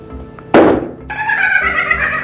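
An empty balloon pops: a single sharp, loud pop with a burst of noise that quickly fades, followed by a steady background hiss.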